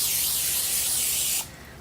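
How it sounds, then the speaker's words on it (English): A can of vegetable oil cooking spray gives one steady, loud hiss onto a pan for about a second and a half, then cuts off sharply, leaving quiet. "I'm going to just lightly spray this"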